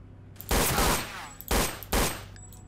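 Gunfire in the S.T.A.L.K.E.R. Misery video game: three loud, close bursts of shots, the first longest, with short gaps between them and low game ambience underneath.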